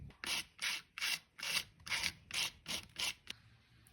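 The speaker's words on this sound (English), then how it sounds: "So I'm going to go ahead and touch that with my grinder here and see if I can get it smoothed out" A grinder smooths a rubber tire surface ahead of a patch, making repeated close, rasping strokes, about eight bursts in quick steady rhythm with brief pauses between, and no talk.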